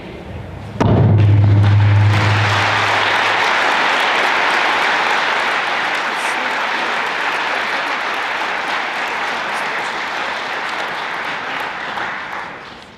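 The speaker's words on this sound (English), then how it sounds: "Give him another round of applause." A large audience at a school foundation breakfast applauds, the clapping starting abruptly after a low thud and holding steady and loud for many seconds before tapering off.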